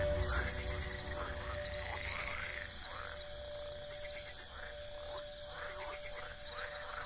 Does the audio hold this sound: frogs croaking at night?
yes